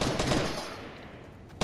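Short burst of video game gunfire, with a quick run of shots at the start that fades into a decaying echo, followed by a sharp hit at the very end.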